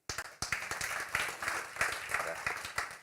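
Church congregation claps and applauds during a sermon, a dense, fairly loud run of hand claps that begins abruptly and goes on steadily.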